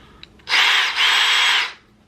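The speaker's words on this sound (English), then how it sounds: "This is my DeWalt 20-volt drill." A DeWalt 20-volt brushless cordless drill whirs loud and close in one burst of just over a second, with a brief dip in the middle before it spins down.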